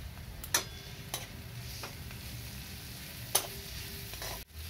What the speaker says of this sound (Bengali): এবার এর মধ্যে আমি আদা রসুনের পেস্টটা দিয়ে দেব।